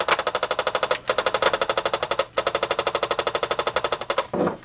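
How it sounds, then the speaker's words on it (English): Sinden light gun with recoil fires in quiet machine gun mode, a rapid, steady burst of mechanical clacks in three long runs separated by brief pauses, loud and close. "it's definitely significantly quieter than the regular machine gun mode"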